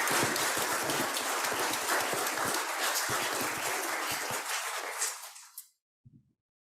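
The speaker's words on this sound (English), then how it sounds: "if we could give them all a round of applause" An audience at a Salk legacy exhibit event gives a round of applause, dense and loud clapping that continues for several seconds before fading out abruptly, with a few scattered final claps.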